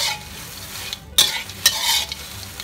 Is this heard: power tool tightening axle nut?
no